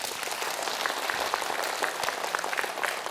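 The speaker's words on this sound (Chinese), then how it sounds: "鼓掌" A lecture audience applauds a doctor's talk: dense, steady clapping from many hands fills the space at an even level throughout, with no voices over it.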